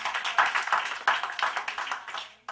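A studio audience applauds a birthday during a comedy show, with dense, fairly close clapping that holds steady and then fades out.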